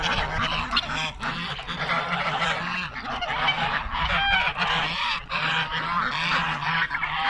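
A flock of geese and ducks honk and quack continuously, overlapping calls close by with no speech.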